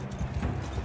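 Horse hooves clip-clop in Mount & Blade 2 with a Game of Thrones mod, a brief run of close, muffled thuds over low game noise.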